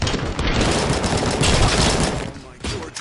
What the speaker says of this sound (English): Oh, those UEDs shoot so beautifully.